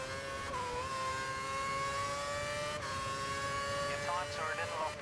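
A Formula 1 car's engine screams and climbs steadily in pitch, game audio from F1 2011 at the Suzuka circuit, a continuous high whine with gear shifts near the end and a voice talking over it.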